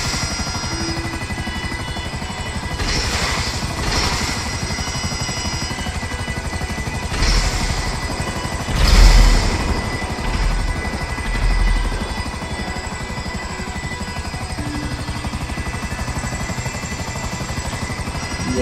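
A helicopter in the GTA V video game whirs steadily throughout, a loud continuous rotor drone with a few brief louder swells and bumps, heard alone without talk.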